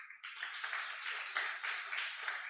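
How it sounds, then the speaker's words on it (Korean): A congregation claps in celebration of people being baptized at a church, a brief burst of scattered applause heard faintly and at a distance. "큰 박수로 축하해 주시고요"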